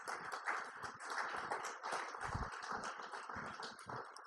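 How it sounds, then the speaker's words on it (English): Audience applause for Sean and the FDIC at a community event on responsible banking, a steady dense wash of many hands clapping at moderate volume throughout. "can we give Sean and FDIC a round of applause?"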